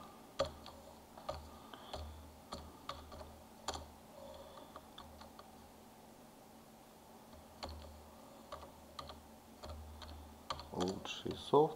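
Keys clack in scattered bursts on a computer keyboard as search keywords are entered, close and quiet, with short pauses between runs of typing.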